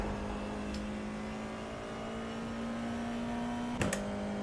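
Steady droning race car engine in the iRacing sim racing game at the Charlotte Roval, holding a constant pitch at moderate level, with a couple of brief sharp clicks near the end.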